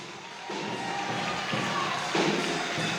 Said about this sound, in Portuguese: Aplaude a Ele. Aplaude a Ele.